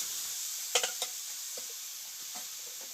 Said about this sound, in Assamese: নিমখ দি মিক্স কৰি ঢাকন লগাই দিলোঁ